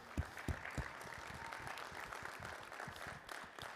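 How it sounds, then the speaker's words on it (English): Faint audience applause for a school mascot at a community session on an athletic renovation project, opening with a few distinct claps before settling into soft, even clapping in a large room. "give the CB mascot an applause"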